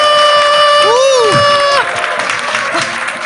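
Audience applause and cheering at a public broadcast for the 104th General Assembly of the Presbyterian Church in the Republic of Korea. A sustained crowd clapping wash follows a bright, tonal musical sting and carries on steadily to the end.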